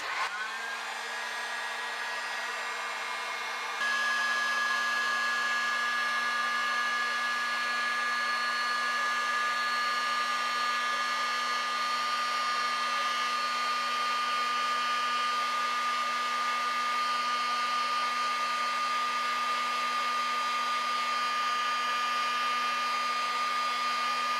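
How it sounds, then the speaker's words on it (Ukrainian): A construction heat gun shrinking heat-shrink caps onto wine bottles blows with a steady, loud whirring hum that shifts slightly early on, then runs evenly without pause. "використовуючи звичайний будівельний фен, нам залишається тільки запаяти дані термоусадочні ковпачки"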